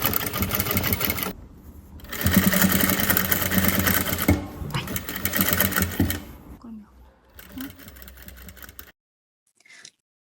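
A sewing machine stitches bias binding around the neckline of a blouse or dress in close, loud whirring bursts broken by brief pauses, with someone speaking over it, before the machine stops.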